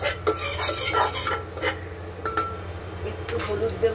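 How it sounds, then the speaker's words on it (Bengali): Cumin seeds fry in hot oil in a pan while a utensil stirs them, giving repeated metallic scrapes and clinks over a soft sizzle, close and moderately loud. "দেখছি জিরেটা ভাজা ভাজা হোক"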